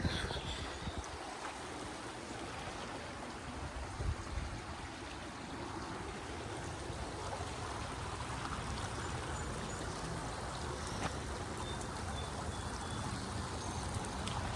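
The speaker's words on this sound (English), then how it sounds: "Look at this nice little creek." A small creek flows in a steady, close, full-bodied rush of water that holds without pause and has no talk over it.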